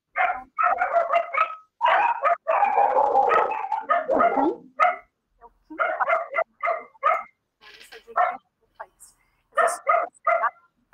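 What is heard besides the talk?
dog barking near a participant's microphone during online meeting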